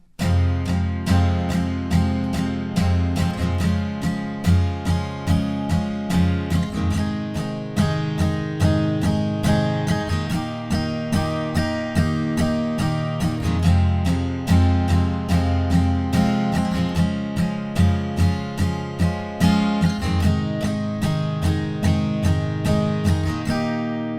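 Steady acoustic guitar strumming of chords, continuous rhythmic strokes ringing out for the whole stretch, with no voices.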